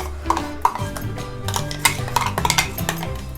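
A ground paste for chicken gravy is sautéed in a pan, with a metal spoon clinking and scraping against it in irregular taps and stirs, close and fairly loud, with background music playing.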